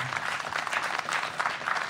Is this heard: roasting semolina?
no